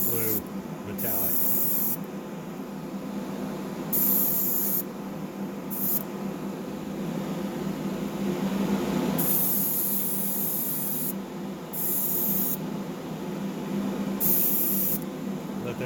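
An aerosol can spraying blue metallic paint onto a Matchbox Chevrolet Impala toy car in short repeated bursts of hissing spray, close and fairly loud, separated by brief pauses.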